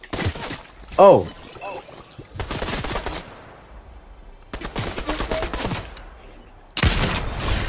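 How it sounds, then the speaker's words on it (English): Enemy gunfire in Fortnite crackling in several bursts of shots between stretches of quieter game sound, with a player's brief startled exclamation near the start. "they're shooting at me"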